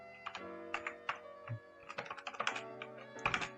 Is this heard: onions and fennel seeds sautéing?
no